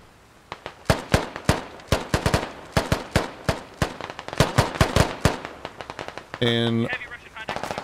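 Rapid bursts of gunfire in a military squad-based shooter game firefight against Russian forces, sharp cracks in irregular clusters near and far, with a voice talking over the shots.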